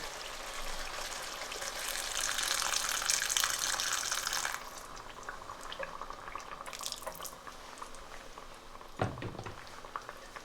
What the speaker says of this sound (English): I'll add half a cup of water from the kettle, which is hot water, and put the lid on.